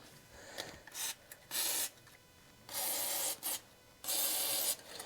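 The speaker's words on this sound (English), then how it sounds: "Let's get these sprayed on with some penetrant and let's get these off." Aerosol can of penetrating oil sprayed onto the spark plugs of a 1965 barn find engine, heard as four hissing bursts of varying length, close and fairly loud, with brief gaps between them and no talking.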